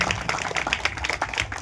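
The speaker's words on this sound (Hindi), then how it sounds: "जोरदार ताली बजा के" A crowd applauding loudly to honour a guru at a village guru-seat installation ceremony: dense, steady, close clapping from many hands.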